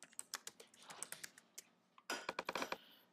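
Keys tapped on a computer keyboard sound in a brisk, uneven run of light clicks, then a short pause and a denser flurry, quiet and close with no talking.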